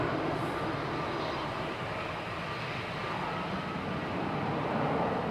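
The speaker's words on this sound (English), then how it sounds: "off to Amsterdam there, GZPD A320-200 with flight 2167" Airbus A320-200 departing Manchester Airport for Amsterdam, a continuous distant jet engine roar with a faint tonal whine, steady throughout and free of talk.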